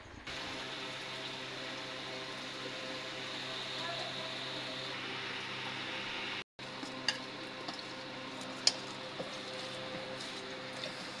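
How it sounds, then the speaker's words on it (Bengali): Hilsa fish rubbed with salt and chilli powder fry in hot oil in a wok, a steady close sizzle with a low hum beneath it, briefly cut off, then resuming with scattered pops and crackles. "এই তো মাছ ভাজা শুরু করে দিল"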